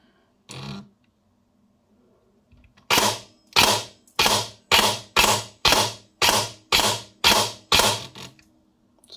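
A gun fires from a virtual magazine: one shot, a pause, then ten sharp cap-gun-like pops in a fast, even rhythm, loud and close, with no talking.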